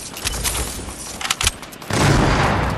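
Gunfire in a console video game, a cluster of sharp shots in the middle followed by a loud sustained roar of firing and blasts toward the end.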